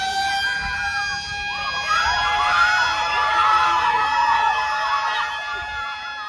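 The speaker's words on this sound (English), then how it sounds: "there was this siren that went off, this huge loud sound that I heard coming off from the school nearby" A loud siren sounds from a nearby school, a steady wailing tone with harmonic layers that swells slightly partway through and holds for several seconds over faint crowd murmur.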